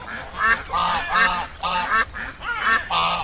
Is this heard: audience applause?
no